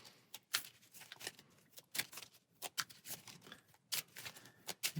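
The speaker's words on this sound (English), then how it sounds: "deck will give it a final shuffle" A deck of cards for Arkham Horror: The Card Game is riffled and shuffled up close in a quiet room, a series of crisp, rapid fluttering bursts separated by short pauses, soft and alone.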